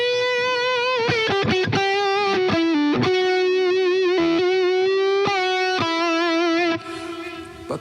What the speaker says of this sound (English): then you have this really thick and like a really full range kind of high gain sound